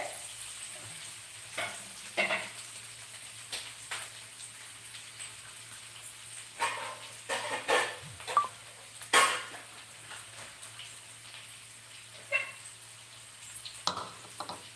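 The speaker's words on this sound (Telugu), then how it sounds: "బాగా ఉల్లిపాయలు వేగాలి కదా" Chopped onions frying in a pan for a Telugu-style aloo matar with coriander, a steady low sizzle broken by scattered scraping and stirring clatters, close up with no talk.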